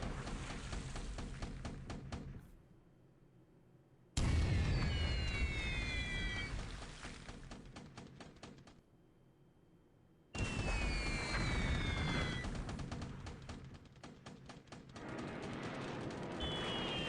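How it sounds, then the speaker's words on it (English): P-35 fighter planes strafing in the War in the Pacific strategy game, loud bursts of rapid gunfire and explosions with whistling tones, in two long stretches broken by quieter pauses. "P-35 strafing."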